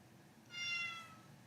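A cat gives a single clear meow, short and fairly quiet, heard alone in a calm indoor room.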